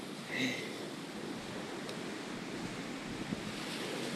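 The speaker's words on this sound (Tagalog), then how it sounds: "Puro lang alon maririnig mo." Faint ocean waves wash onto a beach at Hua Hin in a soft continuous hush with light wind, distant and calm, and a brief chirp-like sound early on.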